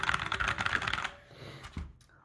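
Rapid typing on a Razer BlackWidow Lite mechanical keyboard, a dense run of crisp close keystrokes for about a second, then a couple of isolated clicks and a thump as it trails off.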